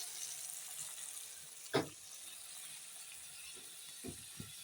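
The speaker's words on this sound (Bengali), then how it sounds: "এখন একটু জল দিয়ে দেব জল দিয়ে মশলাটা কষিয়ে নেব" Water is poured into spice paste frying in a pan for a featherback fish curry, with a quiet, steady sizzle broken by a short splash and a few fainter spits later.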